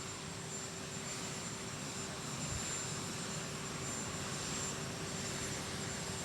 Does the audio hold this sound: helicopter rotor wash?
yes